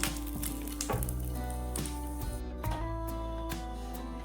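Chillies frying in a pan, a steady close sizzle running throughout alongside a sustained music bed with recurring beats.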